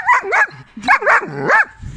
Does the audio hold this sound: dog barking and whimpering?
yes